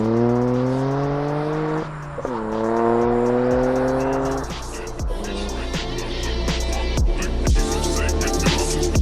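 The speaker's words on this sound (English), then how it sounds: "enjoy the sweet sounds of this AWE Touring as I drive away" A Toyota GR Corolla fitted with an AWE Touring exhaust pulls away, its loud engine note climbing through the gears with clear shift breaks and a rising rasp as it accelerates, heard without talk.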